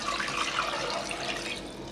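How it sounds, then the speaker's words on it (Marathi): Water pours steadily into a pot of bitter gourd in a home kitchen, a continuous close splashing rush with no other sounds. "याच्यामध्ये पाणी ओतायचं"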